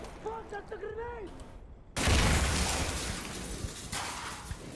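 Rapid automatic gunfire unloads into a wall in the shooter game Insurgency: Sandstorm, a loud sustained burst that starts abruptly after a few seconds of quieter sounds and keeps hammering to the end.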